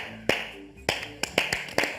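A few sharp, close hand claps ring out, five distinct slaps spaced unevenly over two seconds, sounding more like a lone pair of hands than a full crowd.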